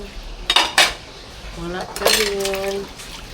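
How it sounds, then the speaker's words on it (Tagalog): Dishes and cutlery being washed outdoors, with sharp clatters of plates and utensils, a splash of water and a brief voice in the background. "So, ayan, hugasan tayo dito sa labas"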